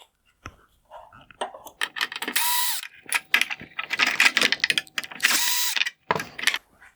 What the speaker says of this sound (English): I will begin by removing the Phillips head screws holding on the turn signal reflector.